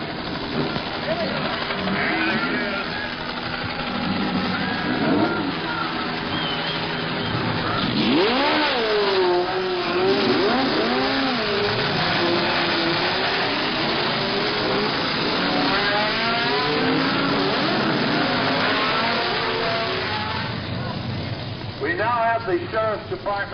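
Race cars start the 1970 12 Hours of Sebring without the old Le Mans-style start, their engines roaring and revving in rising and falling sweeps under a commentator's voice.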